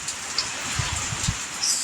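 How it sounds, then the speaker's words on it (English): Rain patters steadily outdoors, a soft continuous hiss with a few slightly louder low thumps of drops. "I just love the smell of rain."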